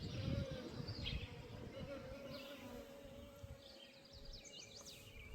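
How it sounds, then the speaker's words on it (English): A dense, steady buzz of bees and other pollinators fills a yard planted with clover and native flowers, holding close and constant throughout, with faint bird chirps in the background. "The yard is literally buzzing."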